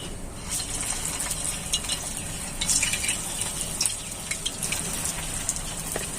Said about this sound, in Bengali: এইভাবে করে সমস্ত মিষ্টিগুলোকে আমি ভেজে নিচ্ছি।